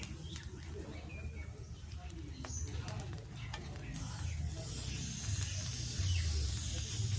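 Raw onion petals go onto broken rice (khud) cooking in a village pot, with a soft steady sizzle and stirring hiss that grows louder toward the end.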